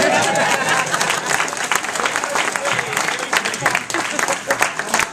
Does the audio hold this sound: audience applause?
yes